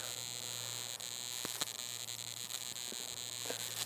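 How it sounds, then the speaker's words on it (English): Steady, smooth electronic buzz from an XP metal detector set to sensitivity 95 while hunting in Goldfield, a continuous even threshold tone with a low hum underneath and a few faint clicks, no talking. "what we're listening for is a smooth audio sound, a smooth buzz"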